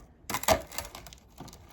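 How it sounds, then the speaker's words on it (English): Crisp cracking and snapping of a lentil flatbread broken apart by hand, a few close, loud crunchy bursts over about a second, with quieter crackles trailing off. "It doesn't really cut that great. You kind of have to just break it"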